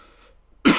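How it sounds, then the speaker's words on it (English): After a near-silent pause, a single short, sharp cough bursts out close to the microphone from a person with allergy-season symptoms. "sorry for all the coughing, everybody."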